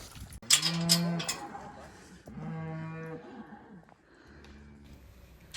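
Cattle on a moorland winter grazing area, including young male beef cows that have been dehorned, moo in two long, loud, close calls, followed by a softer, lower call.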